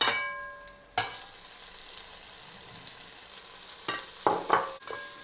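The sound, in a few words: onion and vegetables frying in pan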